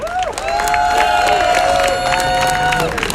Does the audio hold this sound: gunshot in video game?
no